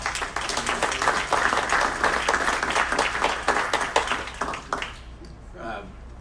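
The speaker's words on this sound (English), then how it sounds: "Another round of applause." At a city council meeting, a room full of people breaks into sustained, dense applause for about five seconds, then it quickly dies away as a voice begins to speak.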